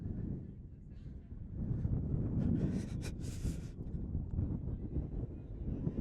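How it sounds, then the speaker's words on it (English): Gusty wind buffets the microphone outdoors at a baseball game, a steady low rumble swelling and roaring louder through the middle, with faint voices underneath. "very windy outside."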